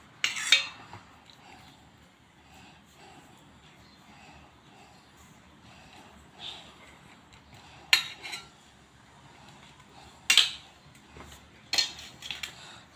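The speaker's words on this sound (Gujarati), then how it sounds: "બ્રેડના ઉપર થોડો ટામેટા કેચઅપ લગાવું છું। ચમચીથી આપણે સરસ મજાનો લગાવી દઈશું આને।" A spoon spreads tomato ketchup across a slice of bread, producing quiet scraping strokes broken by a few sharp clinks of the spoon at scattered moments, close and otherwise fairly soft.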